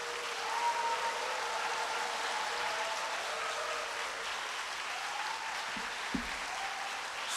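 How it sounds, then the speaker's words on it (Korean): A congregation applauds warmly as a guest pastor comes forward at a church service, an even, sustained wash of clapping in a large room, with faint background tones and a couple of brief knocks near the end. "우리 말씀 전해주실 이승희 강사 목사님 나오실 때 큰 박수로 환영하겠습니다"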